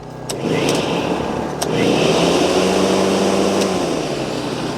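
An 1800 W wheeled electric lawn mower starts and runs with a loud steady motor whine, close by and alone, with a couple of sharp clicks near the start.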